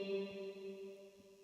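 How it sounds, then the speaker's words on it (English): An electric guitar through a Fender Twin amp profile with heavy plate reverb holds a sustained chord whose shimmering tail rings on, with faint soft picking underneath. "I think it's what's called a plate reverb, and it just gives you this."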